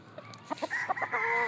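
Chickens cluck in short bursts close by, then one rooster begins a rising crow.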